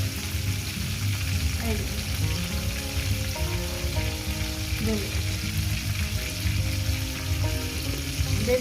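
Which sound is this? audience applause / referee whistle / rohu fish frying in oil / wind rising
rohu fish frying in oil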